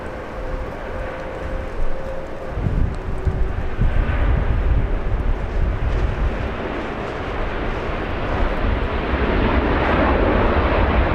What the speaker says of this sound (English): there goes the Philippine Airlines flying to Honolulu